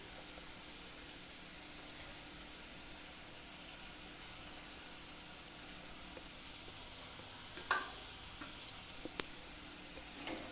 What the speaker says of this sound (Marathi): कांदा आपला जरा लालसर होईपर्यंत आपण असा करून घ्यायचा मी टोमॅटो टाकते